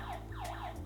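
A Kerui GSM home alarm siren wails with repeated sweeping electronic tones, loud and continuous, set off by motion detection in a house.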